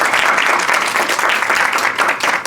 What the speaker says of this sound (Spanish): despidamos al maestro con un fuerte aplauso